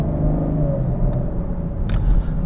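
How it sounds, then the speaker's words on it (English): A 2023 Camaro convertible with about 51,000 miles, driving around the LAX rental car return area, gives a steady low road rumble and engine drone throughout, with a brief higher whoosh near the end. "I am driving a 2023 Camaro convertible"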